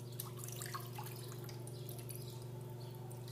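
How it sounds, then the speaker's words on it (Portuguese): Water poured into a pan to make a water bath for baking a bakery-style pudim, heard as light dripping and trickling over a steady low hum, with no voices. "Aí a gente vai adicionar água."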